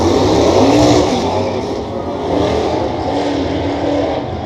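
A Ford Fairmont drag car accelerates down a drag strip at a street meet, its engine a loud, sustained roar that shifts in pitch and then eases slightly as the car pulls away.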